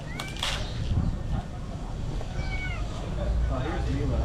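Egyptian street cats meow at a food bowl: a few short, faint meows rise above a busy, noisy outdoor background.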